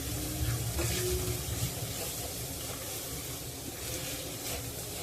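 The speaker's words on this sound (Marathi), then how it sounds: "आता या फोडणीत मी जितड्यात जी चरबी आहे ती घालत आहे चरबी हा मसाल्यामध्ये परतून घ्यायची आहे" Fat from a jitada fish fries in a spice tempering over a low gas flame, producing a soft, continuous sizzle with stirring scrapes near the start.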